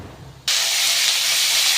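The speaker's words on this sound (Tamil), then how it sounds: "கடுகு சீரகம் பொரிஞ்சிருச்சு" After a short quiet moment, a sudden loud sizzling hiss of mustard and cumin seeds spluttering in hot oil starts and holds steady.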